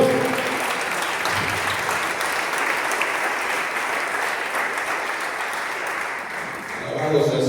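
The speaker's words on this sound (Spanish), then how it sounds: "denle un buen fuerte aplauso al Señor" A church congregation claps loudly in praise to the Lord, a thick continuous roar of many hands sustained for several seconds, with some voices mixed beneath and a swell near the end.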